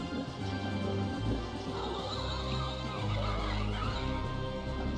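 Pig unit clicked repeatedly in the Warcraft II orc expansion, giving a continuous squealing, grunting animal cry from the game, loud and steady throughout.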